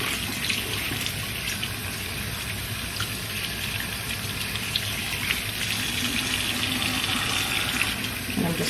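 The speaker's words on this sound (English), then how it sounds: "now I'm gonna rinse this out, and I'm using lukewarm water, so not too hot, not too cold." Lukewarm tap water gushes steadily from a faucet while rinsing conditioner out of a synthetic wig, a constant close-up rushing flow with no talk.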